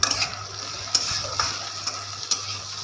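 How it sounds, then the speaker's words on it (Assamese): Onions sizzle steadily in hot oil, with a soft continuous crackle broken by a few sharp spoon clinks against the pan. "পিঁয়াজখিনি ৰঙচুৱা হোৱালৈকে ভাজিম।"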